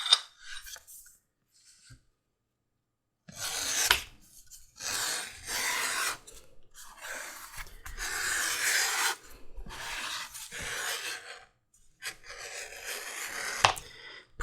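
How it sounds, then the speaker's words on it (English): Edges of a leather sheath for a cleaver are beveled by hand, giving a series of close, dry scraping strokes in uneven bursts with short pauses between them. "And of course we're going to bevel our edges."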